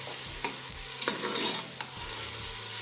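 Pieces of ridge gourd frying in hot oil in a pan, a close, steady sizzle with a few sharp knocks and scrapes from stirring, no speech.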